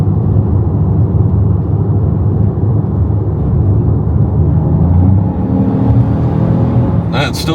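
A 2025 Ford Maverick Lobo's engine and exhaust while driving, a loud, steady low drone heard from inside the cabin, with a brief sharp knock near the end.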